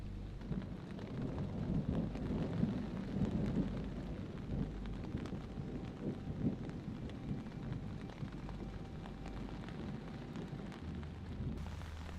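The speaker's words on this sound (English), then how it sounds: "there's a thunderstorm out there, and based upon what I see with the clouds here, it's coming this way" Thunder from an approaching storm rumbles low and distant in long rolling swells beneath steady outdoor rain and wind, with occasional faint crackles and no voices.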